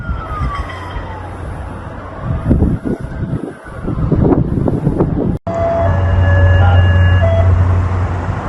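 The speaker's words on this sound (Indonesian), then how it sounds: "sirine meraung-raung saat serangan rudal Iran dan Hizbullah menargetkan Haifa" Air raid sirens wail and rise in the distance over a low rumble during a missile attack on Haifa, Israel, with steady tones continuing after a sharp cut.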